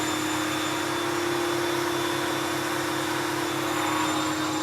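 An Ashbys Enforcer 400 psi cleaning unit runs in dry vacuum mode with its turbo head spinning. It gives a loud, steady, whining motor drone with a sustained tonal hum, close and unbroken throughout.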